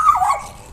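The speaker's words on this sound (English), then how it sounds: "It's a little Chihuahua." A small Chihuahua gives one short, close, high-pitched yip that slides downward into a brief whine.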